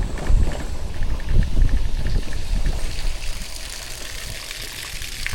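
Water splashing and trickling from small decorative fountains in a residential neighborhood, a steady close wash with rougher low surges early on, then a smoother continuous trickle.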